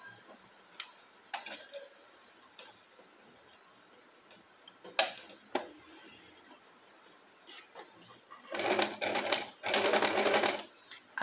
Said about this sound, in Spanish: Voy a coser todo este borde a un pie de máquina con atraques.